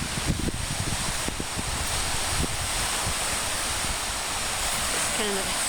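Ocean waves rolling onto the shore of North Manitou Island, a continuous near surf roar with low wind rumble on the microphone and a voice talking faintly underneath.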